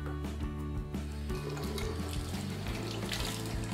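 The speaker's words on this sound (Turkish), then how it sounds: "Şimdi sıcak suyumuzu açalım biraz." Hot water running from a bathroom sink tap, a steady close hiss of flowing water alone, with faint tonal hum in the background throughout.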